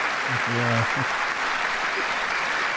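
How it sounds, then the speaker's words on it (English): Applause from Democrats standing in the chamber during the State of the Union, a steady wash of clapping heard at a distance while a nearby voice talks briefly over it. "This time they're standing and clapping."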